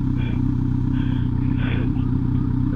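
A motorcycle engine idles steadily at close range with a low, continuous throbbing rumble, while people talk over it during a touring ride on a highland plateau.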